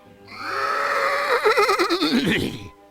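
A horse in the video game Toonstruck lets out a loud, clear whinny that rises, then shakes into a wavering, fluttering neigh before fading, heard alone.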